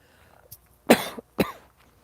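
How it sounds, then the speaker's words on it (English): Two sharp, close coughs from a person out in cold weather, one burst and then a second about half a second later, with quiet before and after. "I might cough a bit more because it's cold."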